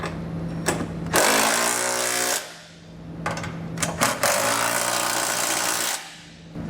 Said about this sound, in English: we're going to come back with a 3/4 inch socket and snug them all down